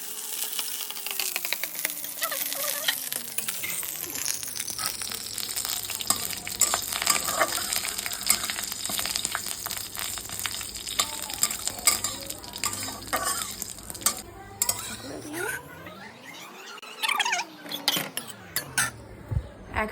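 Black mustard seeds hit hot oil and crackle in a dense, continuous sizzle, with metal utensil clinks and pan scraping throughout and no talking.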